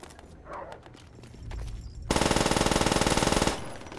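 PPSh submachine gun firing in Call of Duty: World at War, a loud rapid burst of automatic fire lasting about a second and a half, preceded by quieter game sounds.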